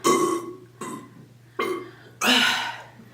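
Four deep, drawn-out burps come in a row during a burping challenge, loud and close, the last one longest and strongest, with short quiet pauses between them.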